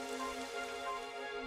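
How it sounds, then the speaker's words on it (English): Rain falling in the video game Dragon Quest XI, a soft continuous patter with a faint steady hiss, quiet and even, with no voices over it. "It would have to go and start raining, wouldn't it?"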